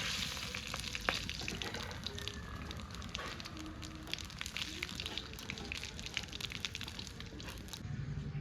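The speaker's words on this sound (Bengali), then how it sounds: "তার জন্য ফোড়নে দিচ্ছি জিরে, শুকনো লঙ্কা আর তেজপাতা।" Cumin, dried chili and bay leaf sizzle in hot oil as a tempering for jackfruit biryani, a steady close crackle and hiss running throughout with a few brighter pops.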